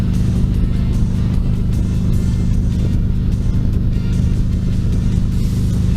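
Car cruising in sixth gear on a highway, a loud, steady low engine drone and road rumble from inside the cabin, constant throughout with no talk.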